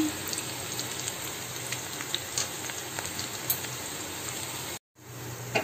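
Dry red chillies, whole peppercorns and onion frying in a kadai for kadai chicken, giving a steady, dense sizzle that runs close and continuous with a brief drop-out near the end.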